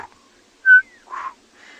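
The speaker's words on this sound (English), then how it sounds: "so that's from a African scops owl." An African scops owl gives a short, purring trill in a savanna reserve at sunset. It is clear but moderately distant, and a brief whistle sounds just before it.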